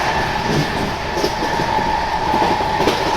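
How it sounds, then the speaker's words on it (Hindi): North East Express passenger train arriving on a crossing track in India, a continuous loud rumbling roar with rail clatter, heard close from an adjacent train. "अब अपनी क्रॉसिंग होगी नॉर्थ ईस्ट एक्सप्रेस से। ये आ गई आपकी नॉर्थ ईस्ट एक्सप्रेस।"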